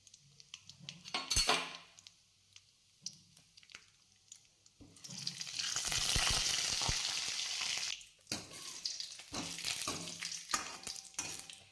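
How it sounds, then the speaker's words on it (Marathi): Dried coconut being roasted in hot oil for a soybean curry, with bursts of sizzling and frying hiss broken by utensil scrapes and clinks as it is stirred, swelling to a steady loud sizzle midway before settling into intermittent stirring sounds. "अशा पद्धतीने मी हे खोबरं भाजून घेतलेलं आहे एकदम लाल"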